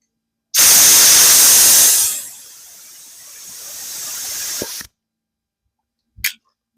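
Compressed air blasting into a rusty fuel tank, a loud close hiss that starts abruptly, drops to a softer rushing hiss, then cuts off, followed later by one short burst.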